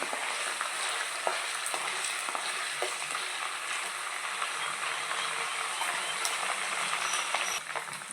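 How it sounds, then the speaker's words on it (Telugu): Ginger garlic paste fries in oil in a pan for mutton pickle, giving a continuous close, loud sizzle with occasional scraping stirs and no talking. "ఇలా అల్లం వెల్లుల్లి పేస్ట్ ఇలా వేగాలండి"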